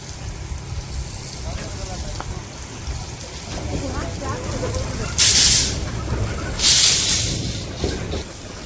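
A steady hissing wash of water spraying from a hose onto steel reinforcement rods runs throughout, with two louder bursts of spray midway and a voice talking faintly underneath.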